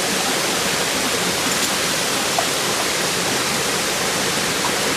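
Waterfall pouring steadily with a husky standing under it, a loud, dense, unbroken rush of falling water that fills the whole space close by, with no talk.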